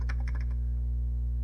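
Keys clack on a Commodore Plus/4 computer keyboard in a quick run of close keystrokes, then a pause and one more press, all over a steady low electrical hum.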